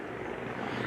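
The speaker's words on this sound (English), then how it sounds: "I do not like the sound of that helicopter." A helicopter flies overhead during an outdoor nature walk, giving a steady, loud rotor and engine rumble that holds evenly for the moment with no voices.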